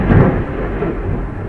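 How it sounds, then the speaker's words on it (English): Loud, close thunder rumbles through a dense, steady roar of heavy rain outside, a continuous wash with no speech over it. "That was almost like lightning right out there. It is raining really heavy."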